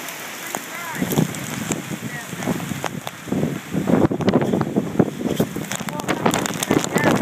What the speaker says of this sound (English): Wind is very powerful. Kicking up quite strongly now.